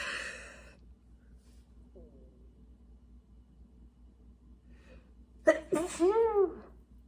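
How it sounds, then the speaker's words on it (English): A single loud sneeze bursts out near the end, followed by a short vocal exhale, after several seconds of near quiet. "Oh, I have to sneeze."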